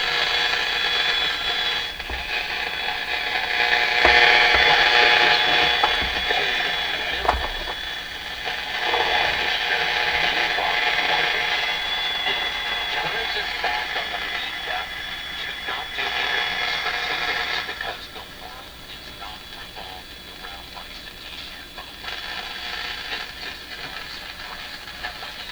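Sony TR-712 transistor radio playing with noise: a steady hiss and crackle of static with faint, muffled broadcast sound underneath, shifting slightly as the tuning wanders, continuous and fairly close without anyone talking.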